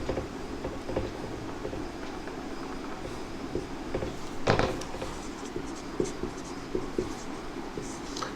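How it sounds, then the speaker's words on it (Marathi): Sentences being written by hand during a Marathi grammar lesson, a continuous scratchy scrawl of strokes and taps, close and moderately loud, with a sharper tap near the middle. "काही वाक्य लिहितोय क्रमाक्रमानं"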